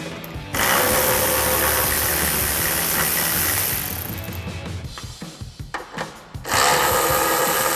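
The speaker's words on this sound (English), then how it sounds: "So we'll grab a 10mm socket to take those out" A power socket tool whirs loudly on 10mm taillight bolts of a 2016-2023 Toyota Tacoma, running steadily for several seconds, then stuttering in short bursts before one more sustained spin.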